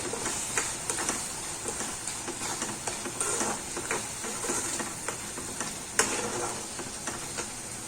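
Spices being stirred into lasagna mince filling, Kashmiri red chili powder and black pepper worked in with steady, close scraping and stirring strokes against the pan, with faint sizzling underneath.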